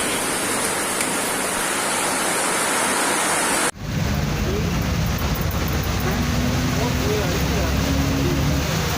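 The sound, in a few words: heavy rain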